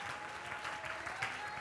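A church congregation clapping for Jesus during a sermon by Pastor Emmy Kosgei Madubuko, a dense, steady wash of applause from many hands, fairly faint and continuous with no pause.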